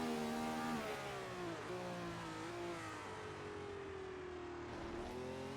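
Ferrari and Eagle race car engines scream in a racing video game set at Fuji in the 1967 season, several engines overlapping with rising and falling rev pitches as the cars battle closely, steady and prominent with no talk.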